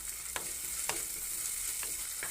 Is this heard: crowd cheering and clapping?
no